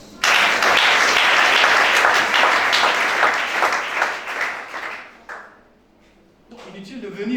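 A church congregation bursts into loud, dense applause for several seconds, tapering off and falling nearly silent before a voice resumes speaking.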